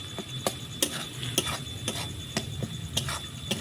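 Tomatoes are stirred and sautéed in a pan for a paneer and papad dish, a spoon scraping in a steady rhythm of sharp strokes about twice a second over a soft sizzle, close with no talking.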